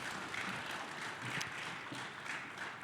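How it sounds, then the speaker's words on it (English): Audience applause at an education budget forum in a high school, a soft, steady patter of clapping from a modest crowd lasting a few seconds. "Let's give them both a round of applause."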